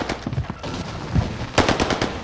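Rapid bursts of gunfire crackle in a Call of Duty: Warzone match, with scattered shots early on and a louder cluster of sharp, close reports near the end.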